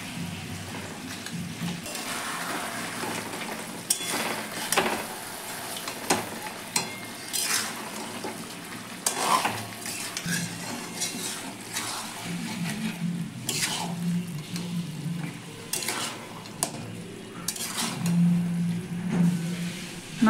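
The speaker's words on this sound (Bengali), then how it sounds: "গ্যাসটা আস্তে দিয়ে ভালো করে কষিয়ে নিতে হবে।" Goat meat stir-frying in a pot over a low gas flame, a steady soft sizzle with intermittent scraping and stirring clatter, close and continuous without voices.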